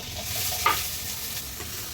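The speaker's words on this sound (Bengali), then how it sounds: "এবার পেঁয়াজগুলিকেও দিয়ে লাল লাল করে ভেজে নেব।" Chopped onions fry in oil in a pan with a steady close sizzle, broken by a brief scrape of stirring partway through, and no voices.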